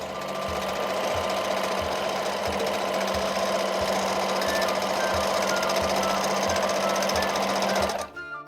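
A sewing machine stitches rapidly and steadily during free-motion quilting, a close, loud mechanical whir with rhythmic needle thumps that stops abruptly near the end.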